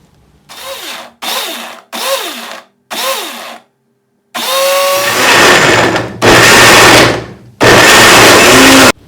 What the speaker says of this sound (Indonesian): Dan ini biar gampang di blender, aku kasih sedikit air